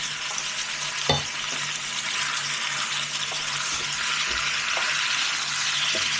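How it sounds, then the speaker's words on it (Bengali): Ginger and garlic paste, a spoon and a half of each, fries in a pan for achari chicken. The loud, steady sizzle is broken by a few sharp spatula scrapes as the paste is stirred. "এখন একটু কষা হবে আদা রসুনটা।"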